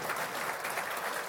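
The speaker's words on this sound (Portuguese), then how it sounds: "eu vou pedir até um aplauso para o ministro da Agricultura e para o presidente da Conab" An audience applauds the agriculture minister at an announcement in Brazil, a dense, steady burst of many hands clapping throughout.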